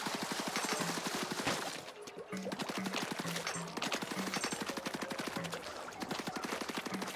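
Ink shooting in the Splatoon Raiders video game, a rapid rhythmic stream of splattering shots repeating steadily over game music, with brief pauses between bursts.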